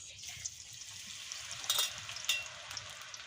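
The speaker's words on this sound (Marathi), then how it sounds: "सगळे गरे टाकवले हे बघा कसे तळतात ते" Jackfruit pieces deep frying in hot oil for Konkani-style jackfruit chips, a steady close sizzling hiss with scattered small pops and a couple of brief louder surges, no voices.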